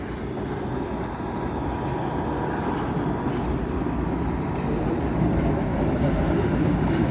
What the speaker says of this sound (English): Oh, here comes the train in.